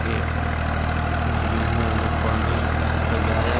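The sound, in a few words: tractor engine puddling a flooded paddy field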